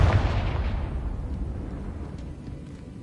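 Confringo explosion spell effect from a video game: a single deep, rumbling blast that starts loud and fades away over a few seconds, heard alone.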